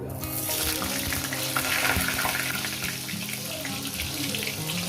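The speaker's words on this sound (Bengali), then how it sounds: "আলুর মধ্যে একটু জল ছিল দিয়ে আলুটাকে সুন্দর করে ভেজে নিচ্ছি" Potatoes frying in hot oil in a pan after a cumin tempering, with a little water in them, giving a dense, loud, continuous sizzle and hiss close up, with no talk.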